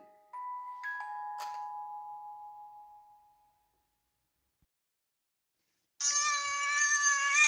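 A cat meows with a drawn-out, wavering cry near the end, after a quiet gap; before the gap come two clear tones and a few faint ticks.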